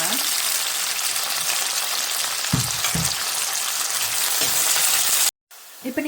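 Onion, green chilli and curry leaves frying in oil for a Sri Lankan brinjal curry, a dense steady crackling sizzle with a few stirring knocks, briefly cut off near the end, then resuming more faintly.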